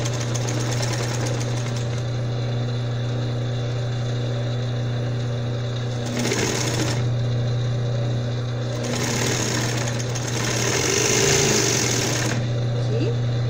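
An overlock sewing machine stitches a small doll dress for a reborn baby doll, running as a steady mechanical whir with a strong low hum, pausing briefly and then starting again for two further long runs. A person speaks faintly beneath it.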